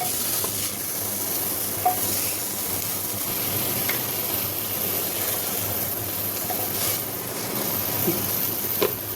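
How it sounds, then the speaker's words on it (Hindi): Quiet, steady sizzling of boiled broccoli frying in a pan, with a few soft clicks and scrapes of stirring, no one speaking. "अब इसको ब्रोकली को हम भून लेंगे।"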